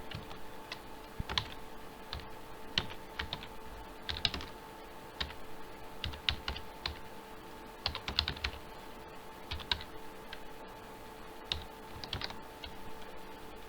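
Java code is typed on a computer keyboard, with irregular bursts of crisp, close key clicks separated by short pauses under a faint steady hum, and no one speaks.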